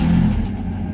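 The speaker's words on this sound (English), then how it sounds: "All right, so let's start the vehicle." A Mercedes SL600 engine, loud and close, with a dense low rumble that eases slightly as it settles right after starting.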